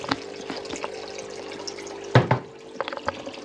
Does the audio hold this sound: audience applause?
no